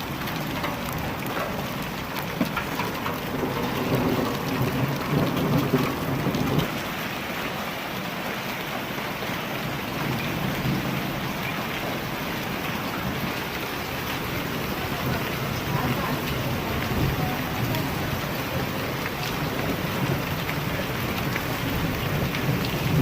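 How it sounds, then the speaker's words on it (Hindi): Heavy rain with a hailstorm and thunder in Pakistan, hailstones larger than normal falling on standing wheat crops; a dense, steady roar of rain and impacts fills the whole stretch at close range, with no talk. "ये ओले अपने नॉर्मल डायमीटर से कुछ ज़्यादा मोटे थे, तो खड़ी फसलों के लिए बहुत ही तबाही का बायस बन सकते हैं।"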